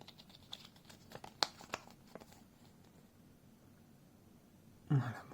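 Packaging being handled while unboxing a cheap generic 1080p webcam: soft crinkling and a few sharp clicks and taps early on, then a louder rustle of wrapping near the end, all fairly quiet and close.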